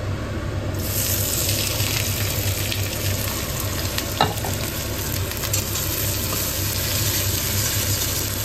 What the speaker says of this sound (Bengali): মোটামুটি এদিকে পেঁয়াজটা কিন্তু গোল্ডেন ফ্রাই হয়ে এসছে